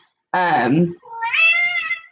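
A house cat gives two drawn-out meows in close succession, the first louder and rising, the second higher and whinier, heard near and clear with no talk over them.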